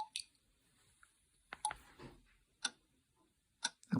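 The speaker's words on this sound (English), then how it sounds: "A clock ticking." Sparse ticking from a white noise machine's clock-ticking setting on a Reacher R2, a handful of sharp clicks at uneven intervals over near-silence, quiet and close.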